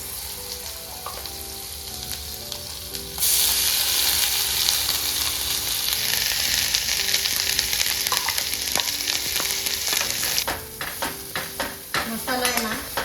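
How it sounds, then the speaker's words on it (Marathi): Ground masala with red chilli powder, turmeric and asafoetida frying in hot oil for veg maratha, a loud steady sizzle that surges sharply as the spices hit the pan, then settles into stirring scrapes and clinks near the end. "तीन चार मिनटं चांगलं तेलामध्ये परतून घेऊ"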